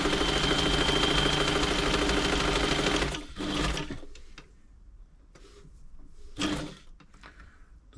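New Home 508 sewing machine running fast with a steady mechanical whir for about three seconds, then stopping, followed by a few brief clicks and short motor bursts.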